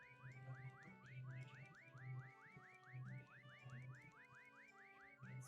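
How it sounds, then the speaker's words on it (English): A faint, high warbling whistle repeats in a steady looping pattern over a low hum during a game stream, sounding distant and quiet throughout. "finally just heard a whistle and it was so faint"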